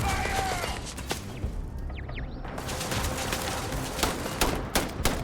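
Automatic turrets firing in the space game Starfield, with steady close gunfire crackling amid clattering combat noise and sharp impacts, no voices.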